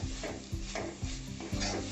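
Grated fresh coconut with an onion, ginger, garlic and coriander paste is stirred and sautéed in a pan, with a soft steady sizzle and repeated scraping strokes about every half second.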